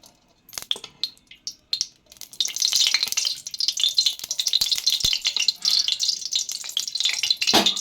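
Chicken pieces dropped into hot oil: a few sparse clicks and taps at first, then a loud, dense crackling sizzle that keeps going steadily to the end.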